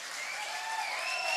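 Crowd applause rises as Alabama Crimson Tide head coach Nick Saban arrives at a college football venue, with dense, steady clapping from many people, sustained and fairly loud throughout the short moment.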